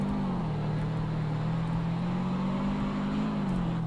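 Steady engine drone of a 1990 Honda CR-X Si-R in the Roblox game Greenville, making a U-turn, a continuous low hum that rises and falls slightly in pitch, with no talking.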